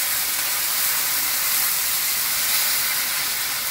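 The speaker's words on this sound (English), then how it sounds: "What we're going to do is we're just going to add a little bit of our beef stock." Beef stock poured into a hot pan to deglaze Austrian-style Hungarian beef goulash gives a loud, steady hiss and sizzle that holds evenly throughout, with no talking.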